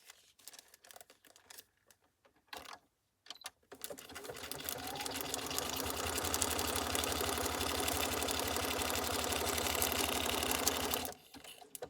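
A sewing machine runs steadily for about seven seconds, quasi-stitching a handmade paper envelope, close and fairly loud, after a few brief handling clicks, then stops.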